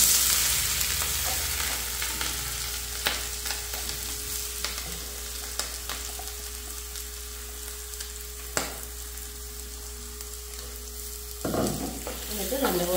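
Ground coconut spice paste for a banana-flower thoran hits a hot pan with spluttered mustard seeds, setting off a continuous close sizzle with sharp crackles scattered throughout and a heavier clatter near the end.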